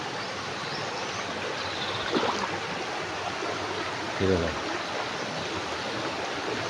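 Continuous rushing of a village stream in Konkan flowing nearby at low water, a broad steady wash of sound with a couple of brief knocks partway through.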